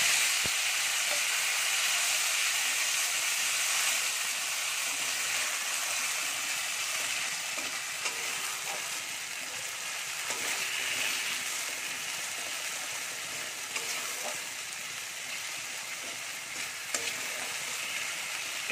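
A spice paste of ginger, cumin and coriander fries in a pan for banana-blossom koftas, giving a steady, close, bright sizzle and hiss with faint stirring scrapes and no talk.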